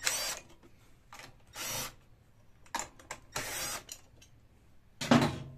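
Short bursts of a power tool whirring on and off, several separate runs with quiet gaps between, fairly close and mechanical, removing 5/16 valve cover bolts from a Briggs and Stratton overhead valve engine.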